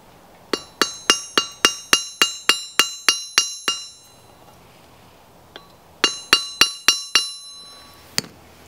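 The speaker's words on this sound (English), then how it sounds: "And then we'll flatten that tip" Sharp metallic hammer strikes ring out as a red-hot nail tip is flattened, a steady run of about a dozen blows, a brief pause, then several more bright clinks, close and loud.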